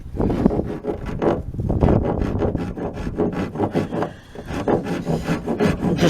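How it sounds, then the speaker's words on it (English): An angle die grinder cuts down hardened Bondo filler on the rear quarter of an Astro van body, a continuous rough rasping grind with rhythmic strokes and brief dips, loud and close throughout with no talking. "The sole reason I bought this angle die grinder was actually to get this little piece"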